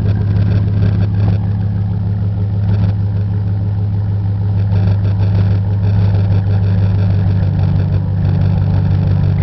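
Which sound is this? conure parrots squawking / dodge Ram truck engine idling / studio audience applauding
dodge Ram truck engine idling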